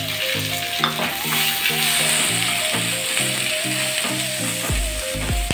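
Onion and curry leaves fry in hot oil for a Tamil mixed vegetable poriyal, giving a loud, steady sizzle and crackle close up, with no voices.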